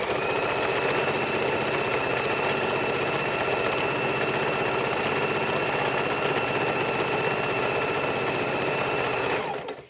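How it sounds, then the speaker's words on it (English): A sewing machine stitching back and forth over a fidget quilt runs in one continuous, steady mechanical whir for nearly ten seconds, close and even, stopping only at the very end, with no voices. "even though you hear me sewing over it many times"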